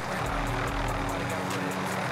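Helicopter in Warzone, a steady rhythmic rotor chop with engine drone throughout a short stretch, fairly loud and close.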